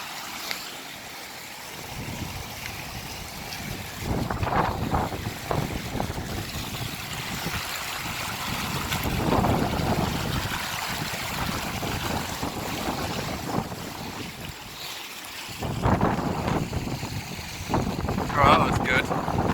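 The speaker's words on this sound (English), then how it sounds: "It is pretty windy, but it's not too windy." Gusting wind on Scafell Pike under a yellow wind warning, buffeting the microphone in rough surges that rise and fall, with running water nearby and occasional voices underneath.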